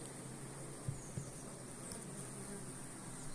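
Honey bees in a Carpathian hive buzz in a steady, dense drone close up, a continuous hum with a couple of faint knocks from the frames.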